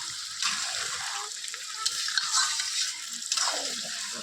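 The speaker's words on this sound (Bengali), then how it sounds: "এবার আলুগুলো ঢেলে দেবো, দিয়ে ভালো করে কষাবো।" Goat mutton and potatoes frying in spiced oil in a pan, a steady close sizzle broken by scraping stirring strokes, with no talk.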